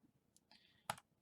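A few quiet clicks from a computer mouse during CAD modelling, with a soft scrape just before and one sharper pair of clicks near the end, close and faint in a quiet room.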